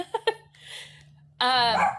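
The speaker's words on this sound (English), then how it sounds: "my dog is next to me" A pet dog close beside an indoor speaker gives a couple of short yips followed by a drawn-out, high whining whine and a brief louder whimpering cry; no speech accompanies it.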